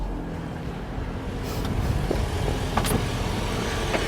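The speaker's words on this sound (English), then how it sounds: "You're the only person on the planet to rev a Prius, I think." A 2024 Toyota Prius being revved, a steady, muffled engine and road-vehicle drone with slight swells in level, heard close with no talking.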